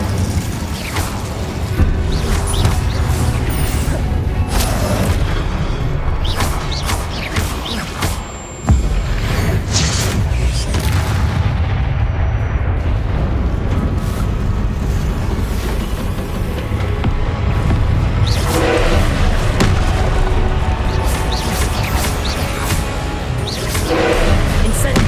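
Spell effects from the Hogwarts Legacy video game, Glacius ice and Incendio fire casts during a boss fight, come as a dense run of booms, whooshes and crashes over a constant loud game score, with a brief dip near the middle.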